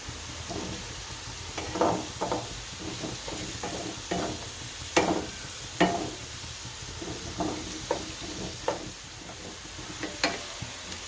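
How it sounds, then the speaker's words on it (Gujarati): Crushed peanuts get stirred into sabudana khichdi, the spoon scraping the pan in a dozen or so distinct strokes spaced a second or two apart over a faint continuous sizzle, close and moderately quiet. "હવે આમાં સિંગદાણા નાખશું ભૂકો, આને ભેળવી નાખશું હારો"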